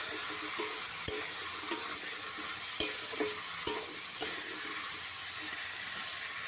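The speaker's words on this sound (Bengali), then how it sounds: "দিয়ে ভালো করে সবজিটা ভেজে নেব" Vegetables seasoned with salt and turmeric fry in a wok, giving a steady, close sizzle broken by regular spatula scrapes and knocks against the pan, with no talking.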